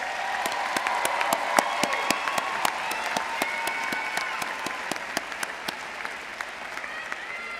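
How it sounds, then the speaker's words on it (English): A commencement audience at SUNY Broome applauds the graduating class of 2026 with sustained, dense clapping. Sharp individual claps stand out against the steady roar of the crowd. "Let's give them another round of applause."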